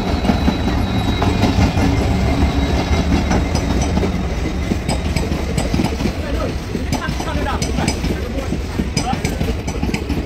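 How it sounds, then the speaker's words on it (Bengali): A train pulls into a station on a rainy day, rumbling and clacking loudly nearby while people talk and call out over the steady noise. "ওই যে ট্রেন আসছে, দেখো।"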